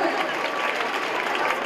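A concert audience at a premiere show in Thessaloniki breaks into loud, sustained applause, a dense wash of clapping and cheering with voices mixed in.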